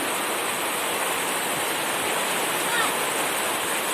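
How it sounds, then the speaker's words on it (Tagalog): Heavy rain pours steadily in a dense, even hiss that stays constant and fairly close throughout, with no clear talking over it. "Lakas pa rin ang ulan guys."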